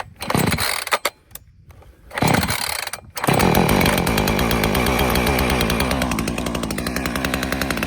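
A chainsaw engine sputters a few times, then catches and runs steadily with a loud, continuous buzzing roar.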